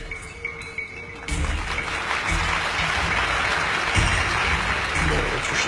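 Audience applause from a studio crowd at a televised drama, starting abruptly after a quieter opening and continuing as a steady, dense wash of clapping to the end, with some voices mixed in.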